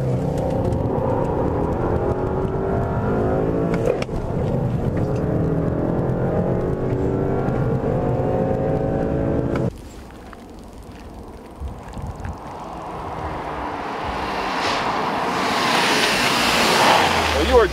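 A 2013 Volkswagen CC R-Line accelerates hard from a standstill toward 60 mph, its turbocharged engine rising in pitch through a long pull, then a gear change and a rushing wind-and-engine roar building again, with people talking over it.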